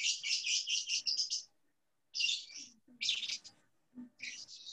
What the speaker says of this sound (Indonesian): Yang ada suara burungnya itu, mohon maaf, mikrofonnya dimatikan saja ya.